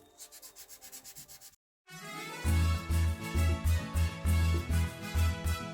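Oil pastel is rubbed over a drawing on paper in quick, rhythmic back-and-forth scrubbing strokes, lighter at first, then after a short pause a heavier run of close, evenly paced rubs.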